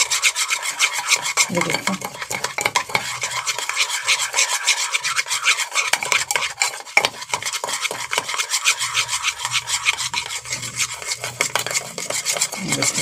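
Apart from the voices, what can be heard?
spoon beating coffee mixture for cappuccino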